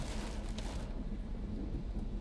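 Heavy rain drumming on a VinFast VF5 driving over rough pavement, a steady broadband wash with low road rumble beneath and a brief brighter splash early on, no talking.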